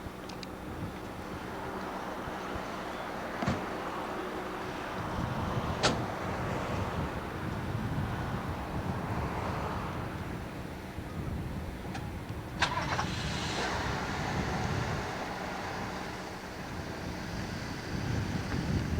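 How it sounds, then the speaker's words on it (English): Passing cars on a road beside a scenic pull-over in open grassland with mountains around, heard as steady rolling traffic swells and fades over wind noise, with a few sharp clicks and no talking. "You can hear cars."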